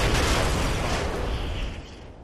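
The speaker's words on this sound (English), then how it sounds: "Tossing stun grenade." A stun grenade explodes in a video game: one dense, loud blast that fills the moment and then tails off into a fading rumble.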